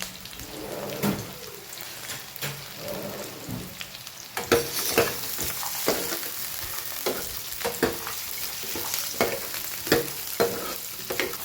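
Onion, cashews and melon seeds sauté in a nonstick pan, a steady sizzle broken by repeated scraping stirs in an uneven rhythm, close and clear.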